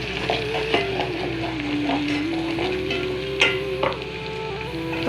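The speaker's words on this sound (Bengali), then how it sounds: "চিকেন ভুনার জন্য আমি তেল নিয়ে নিচ্ছি। তারপরে পেঁয়াজটা দিয়ে দিচ্ছি।" Onions frying in oil for chicken bhuna sizzle steadily in the pan, with a spatula stirring and scraping in occasional louder strokes, close by and with no talking.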